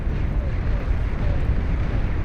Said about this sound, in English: Wall cannon continues firing away.